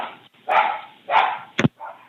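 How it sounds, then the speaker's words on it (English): A dog barks at home in a few loud, close bursts, with short gaps between them and a sharper double yelp near the end. "I'm sorry the dog is barking"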